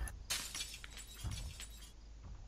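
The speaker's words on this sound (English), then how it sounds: "let me clear the glass on the other one" Window glass shattering in the zombie survival game Project Zomboid, a few brittle crashing bursts set against faint background noise, quiet overall.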